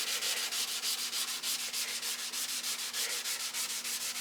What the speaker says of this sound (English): I'll keep sanding those areas down.